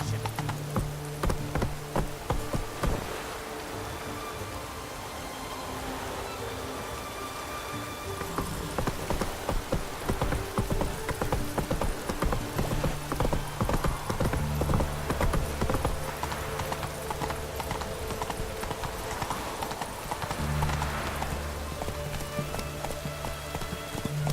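A horse gallops in The Witcher 3, with steady rapid hoofbeats continuing throughout over rain and ambient game music, close and prominent.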